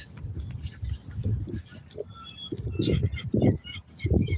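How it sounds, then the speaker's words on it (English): Seagulls calling around a harbour lined with boats, several short cries scattered through the clip over a low, busy outdoor rumble, fairly close and moderately loud. "These seagulls"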